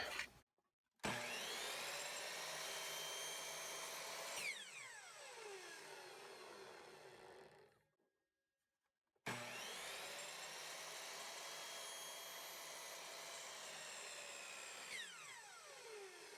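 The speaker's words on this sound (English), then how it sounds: "I'd like to give it a cut test here with my chop saw, just to see how it reacts to the regular carbide blade" A chop saw fitted with a standard carbide blade cuts through material from a vintage Channellock No. 420 restoration, producing two loud sustained whining cuts, each trailing off as the blade spins down, separated by a brief silence.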